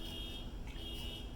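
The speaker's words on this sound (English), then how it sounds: "Try not to let the car alarm" A car alarm sounds at a distance, its steady high-pitched electronic tone running continuously beneath a low background rumble, faint and even in level.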